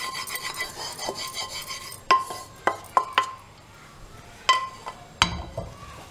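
Maida flour is stirred and roasted in a pan, heard as quiet scraping followed by several distinct sharp clinks of a spoon against the metal pan, spaced irregularly.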